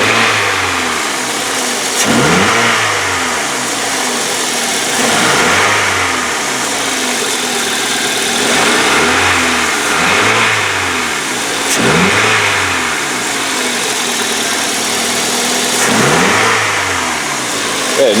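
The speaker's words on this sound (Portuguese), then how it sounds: "Dando uma leve oscilada na marcha lenta" A Toyota Corolla engine idles cold with a low, rhythmic rumble that rises and dips every couple of seconds, slightly uneven, close by and fairly loud.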